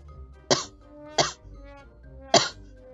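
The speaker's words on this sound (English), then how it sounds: "that river just got in me and made me cough" Three sharp coughs from one person, spaced unevenly over a few seconds, close and fairly loud against a quiet background.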